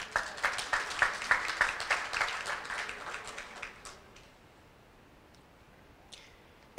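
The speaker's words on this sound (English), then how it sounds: "Give our wonderful senator another round of applause." An audience at a ceremony honoring the Tuskegee Airmen applauds a senator, with brisk clapping that swells early then thins and fades to a quiet room by the end.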